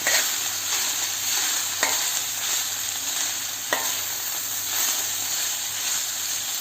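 Onions and meat sauté in a pan for saç kavurma, hissing with a steady loud sizzle, broken by a couple of sharp stirring clacks and scrapes, close up with no voices.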